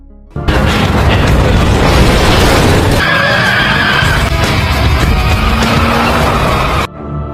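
A police car getting blown up in an action film about gangsters and a retired Marine: a loud, dense crash of blasts and debris that runs continuously for several seconds, with no talk.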